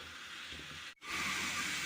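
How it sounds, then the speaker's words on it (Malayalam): Steady broadband hiss of steam building inside a covered idli pot over boiling water, loud and continuous, with a brief dropout midway before the hiss returns stronger. "ഇനി ഇതൊന്ന് മൂടി വെച്ചൊന്ന് ആവി കയറ്റിയെടുക്കാം."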